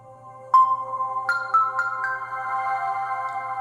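A TCL Flip 3 flip phone plays its startup sound: a bright synthetic chime of several quick rising tones that settle into a sustained ringing tone, heard up close and clear over a faint low hum.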